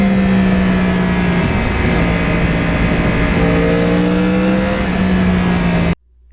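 A 2009 Yamaha R1 crossplane motorcycle with its stock exhaust rides along scenic roads, its engine holding a loud, close, steady drone with a slight rise in pitch before cutting off abruptly at the end.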